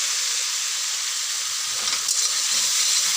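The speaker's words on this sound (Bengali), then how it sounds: "মশলা কিন্তু ভাজা হয়ে গেল" Spices frying in a pan for a rohu fish curry with potatoes, a steady close hissing sizzle that rises slightly toward the end.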